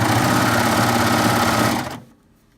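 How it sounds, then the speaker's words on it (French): A Baby Lock coverstitch machine running a two-needle cover hem over thick, overlocked fabric seams, a fast steady mechanical whir that runs loud and even, then stops abruptly, leaving near silence. "Quand on le passe à la machine, donc là je suis en recouvrement 2 aiguilles"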